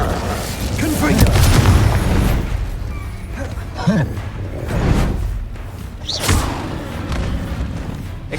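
Confringo blasting spells exploding in Hogwarts Legacy on Xbox Series X: deep booming blasts and whooshing spell effects recur through the clip. Character voices sound over the repeated impacts.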